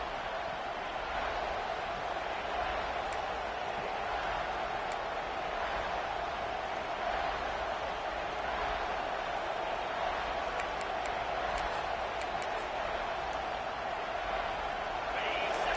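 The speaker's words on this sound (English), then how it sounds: "the crowd really making some noise now, trying to help out this defense" A constant roar of a large stadium crowd in the video game NCAA 26 fills the whole clip, loud and unbroken, like a packed stadium making noise.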